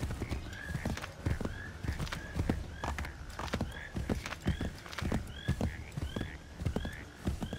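Steady clip-clop of horse hooves trotting at a regular pace in the video game Assassin's Creed III, with occasional whinnies and neighs over the rhythmic footfalls.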